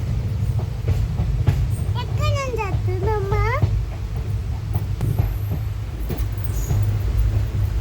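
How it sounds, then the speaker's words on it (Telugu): Low rumble of a train rolling into a station, with a voice and other people talking over the steady mechanical drone. "ట్రైన్ వచ్చేసింది ఇంకా"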